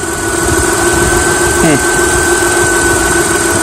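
A car engine idles steadily after an oil leak was repaired with JB Weld, giving a loud, even hum close by with a faint whine over it and a brief squeal partway through.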